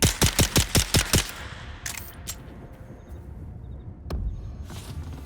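A pistol fires in the video game Dune Awakening, six sharp evenly spaced shots in quick succession, loud and close, followed by quieter in-game clanks and ambient rumble.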